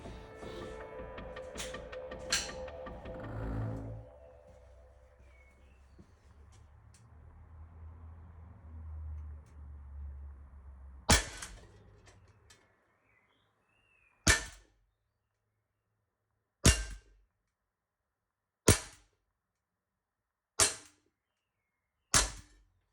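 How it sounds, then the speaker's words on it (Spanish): Sharp, loud shots from a Sig Sauer P320 X Carry pistol ring out one at a time at regular intervals at an 8-metre target range, each followed by silence, after a stretch of rumbling background noise. "16 disparos ahí"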